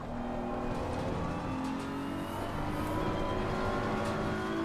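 A race car engine holds a steady, loud, droning note as it laps Monza in Assetto Corsa Competizione, with no voices over it.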